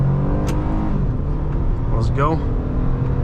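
A 2007 Honda Accord Coupe EX-L V6 pulls away from a full stop, its engine note climbing steadily under a person's voice, with a brief rising whine near the end.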